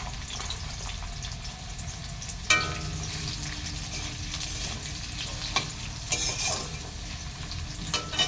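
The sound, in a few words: ginger garlic tomato chili paste frying in pan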